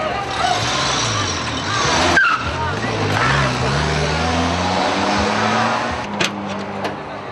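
A car pulling away during a street carjacking, its engine hum rising and shifting pitch as it accelerates off, heard steadily through the whole stretch with street noise and a brief clatter near the end.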